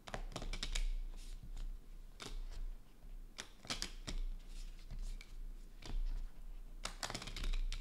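Cards for the board game Dune Imperium: Rise of Ix are shuffled close up on a table, a rapid clicking, riffling patter in uneven bursts with short pauses, no talk over it.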